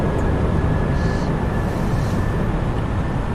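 Steady airliner engine and airflow drone during final approach in Microsoft Flight Simulator as the landing gear lowers, a continuous broadband rumble with a faint whine and no distinct gear clunk.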